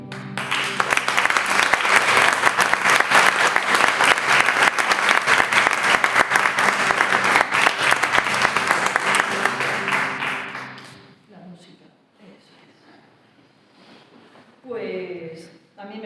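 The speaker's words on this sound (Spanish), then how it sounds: "Vamos a darle un aplauso a todas las valientes y los valientes de la Global" An audience at a talk on Buddhism and feminism breaks into loud, sustained applause that lasts about ten seconds and then stops abruptly, followed by near-quiet and a brief voice speaking.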